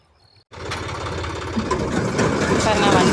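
A vehicle engine arrives at a rice paddy field during the harvest. After a half-second of near silence, a loud rumbling engine cuts in and holds steady, growing slightly louder as it approaches.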